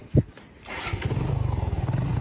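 A motorcycle engine catches with a short burst, then settles into a steady, close, throbbing idle with an even pulsing rhythm.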